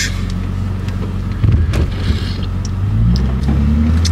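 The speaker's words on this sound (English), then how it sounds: "now that the car is warmed up, yo, we are good to get on the road because the car is warmed up" A warmed-up car engine idling and pulling away on a snowy day in Texas, a steady close rumble with a brief rise as it revs, heard from inside the car.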